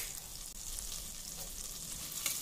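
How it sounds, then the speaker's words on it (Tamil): Cardamom and bay leaves frying in butter for a meal maker gravy, a soft continuous sizzle with faint bubbling and a tiny clink near the end. "இது எல்லாமே இந்த பட்டர்லாம் நல்லா ஃப்ரை ஆகணும்."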